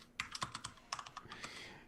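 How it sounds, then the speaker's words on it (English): Computer keyboard typing during a tabletop roleplaying session of Shadowrun: Anarchy, a quick irregular run of soft clicking keystrokes heard alone at close range and fairly quiet. "and I just keep typing."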